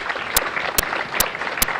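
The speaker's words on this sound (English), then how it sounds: "Let's give him a round of applause" A studio audience at a 1980-81 high school quiz bowl television show applauds, a moderate patter of clapping with distinct sharp claps recurring at an even, steady pace for under two seconds.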